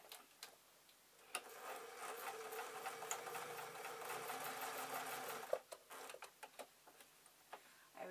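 A home sewing machine runs a steady burst of rapid stitching as fabric is sewn around an owl shape, preceded and followed by quiet clicks and handling, fairly faint and with no voices.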